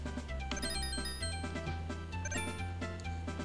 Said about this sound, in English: There's the bells that are ringing.